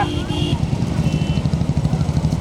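A low, steady motorcycle engine rumbles beneath busy crowd chatter and voices at a big-bull cart race in Ethanadu, Tamil Nadu, with a brief high tone near the start.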